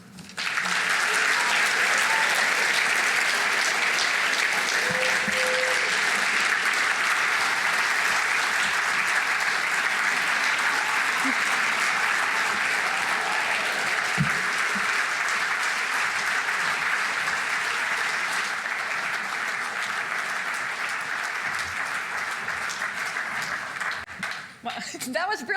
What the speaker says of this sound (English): I think we need another round of applause